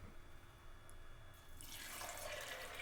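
Water is poured into a pot of soaked, salted black gram being readied for boiling to make susiyam; after a quiet start, a close, steady splashing pour builds and continues to the end.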